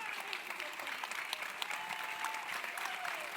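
Audience applause at a film Q&A for a farming documentary, steady dense clapping from a crowd filling the room, continuous and fairly loud throughout with a few voices faintly mixed in.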